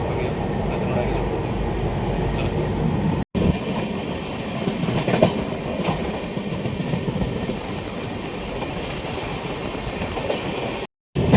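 Madgaon Summer Special express rolls steadily near Mumbra, a loud continuous rumble of wheels and carriage noise with faint rhythmic clatter, broken by two brief cuts; a voice speaks now and then over it.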